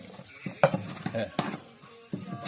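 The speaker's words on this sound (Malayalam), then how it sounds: "കുറച്ച് വെളുത്തുള്ളി അതിലേക്ക് ചേർക്കുന്നുണ്ട്" Garlic and ginger sizzle in hot oil in a pan while cooking fried rice, with bursts of stirring, scraping and utensil clatter close by.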